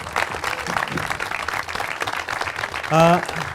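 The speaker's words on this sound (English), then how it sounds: "Can we give everybody a round of applause, please?" Audience applause at a cinematography society expo panel, steady broadband clapping that runs the full length under a crowd murmur, swelling briefly louder near the end.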